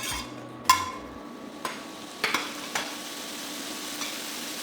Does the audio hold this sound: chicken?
no